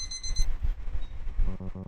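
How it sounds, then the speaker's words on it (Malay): An alarm clock rings in short repeated bursts of bright electronic tones, heard at the start and again near the end, over low thumping background noise, with no talking. "Turn off the alarm clock."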